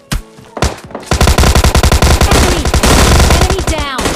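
Loud automatic gunfire in the mobile battle royale game PUBG Mobile, with dense rapid bursts of shots in close succession after a couple of single shots.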